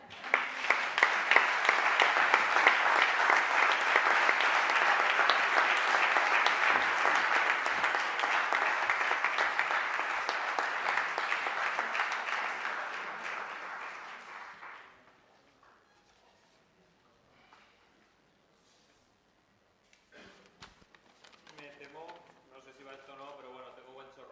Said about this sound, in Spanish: ahora podéis aplaudir